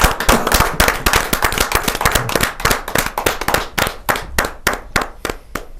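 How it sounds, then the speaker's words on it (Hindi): Loud, close applause from a poetry gathering audience, dense clapping that thins to a few scattered claps by the end. "मैं बड़े जोरदार तालियों के साथ स्वागत करता हूं"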